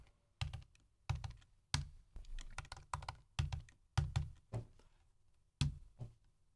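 A password being entered on a computer keyboard: short bursts of quick, close key taps and clacks, separated by brief pauses, with a few heavier thunks among them and no voices.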